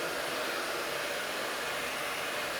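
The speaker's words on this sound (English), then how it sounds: "We're using high heat with an industrial heat gun." Industrial heat gun on high heat, blowing hot air to loosen adhesive on a vinyl car wash decal: a steady, loud, close whooshing roar that holds constant throughout.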